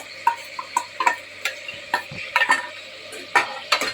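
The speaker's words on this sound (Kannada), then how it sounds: "ಚೆನ್ನಾಗಿ ಮಿಶ್ರಣ ಮಾಡ್ಕೊಳ್ಳಿ," A spoon stirring ground onion in a hot pan, sharp irregular clinks and scrapes against the metal over a faint sizzle, close and distinct.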